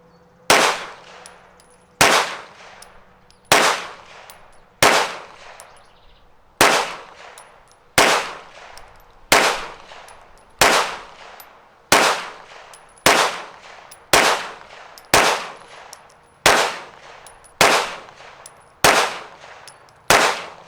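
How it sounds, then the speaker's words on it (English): A Walther PDP FS Pro SD pistol fires CCI Blazer ammunition in a steady string of about fourteen loud, sharp gunshots, each ringing briefly before the next, spaced roughly evenly. "this time we're going to shoot at the top right target"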